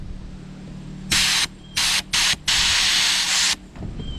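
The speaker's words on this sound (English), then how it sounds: "Now that my compressor's all aired up, let's go ahead, put our nozzle down." A nozzle blows compressed air through the T-top drain of a Nissan 300ZX in four loud, close bursts of hiss, a short blast first and a longer one last, with no talk.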